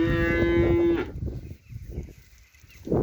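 Akbas calves mooing on a livestock farm: one long, loud, steady moo opens the sound, followed by quieter lower calls and shuffling, then another moo starting at the end.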